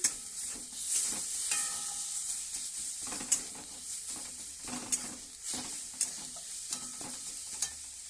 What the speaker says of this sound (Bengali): কচু পাতাটা দিয়ে দিচ্ছি। দিয়ে দিয়েছি কচু পাতা।